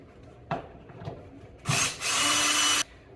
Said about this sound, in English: We're gonna use the drill to see if we can get these screws out here.